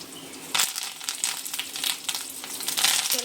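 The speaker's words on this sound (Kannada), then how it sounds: "ಒಗ್ಗರಣೆ ಸೊಪ್ಪು ಹಾಕಿ," Curry leaves hit hot oil with dried red chillies for a ripe-mango upkari tempering, bursting into a loud sputtering crackle after a quiet start and spitting on close by.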